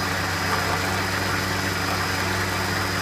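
A lathe with a tool post grinder runs at 1450 RPM, giving a steady, constant mechanical hum with a thin high whine, heard alone and unchanging throughout.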